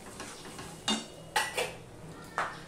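Spoon scraping and clinking against a pan while yogurt is stirred into Bengali potato curry over a low gas flame, a few sharp metallic knocks spaced across a quiet background.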